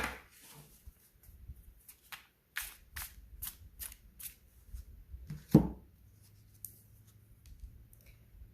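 Tarot cards being shuffled and handled at close range, heard as a series of quick, crisp papery flicks and slaps with pauses between them, quiet and without talking.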